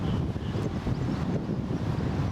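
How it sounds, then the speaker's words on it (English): Steady wind buffets the microphone by a river near a bridge, a continuous low rumble, fairly loud and unbroken throughout. "It's a lovely day, it's windy."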